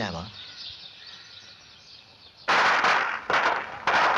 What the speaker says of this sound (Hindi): अरे बच्चों, बंद करो ये फटाका